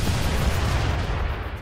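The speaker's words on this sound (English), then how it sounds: "More random missiles firing at us." Missiles firing in the mecha strategy game Front Mission 2 remake, a dense continuous rumble of launches and blasts that stays loud and steady throughout.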